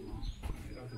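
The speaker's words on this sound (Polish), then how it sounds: "No mam gołębie. No, słyszymy klasycznie." Racing pigeons arriving at a loft during a Polish pigeon-racing club flight in Kościerzyna, cooing softly and steadily beneath someone talking nearby.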